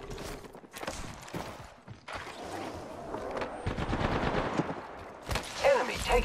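Rapid gunfire in a video game, bursts of shots crackling over a steady rumble of game noise, fairly loud, with a spoken voice briefly in the mix.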